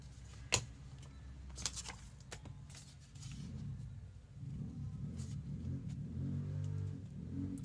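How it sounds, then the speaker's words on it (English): A motorcycle or other motor vehicle passes outside an open window, its engine a faint distant rumble that swells and lingers beneath a few soft nearby taps and clicks. "motorcycles passing by."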